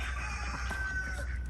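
Chickens inside a coop, with one rooster crowing in a steady drawn-out call over continuous clucking and low barnyard rumble, close and fairly loud.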